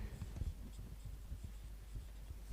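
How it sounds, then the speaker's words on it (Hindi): Pen writing on paper while working out a geometry area problem, a soft, close scratching with small irregular strokes at low level, no talking. "तो हम लिखेंगे यहाँ पे"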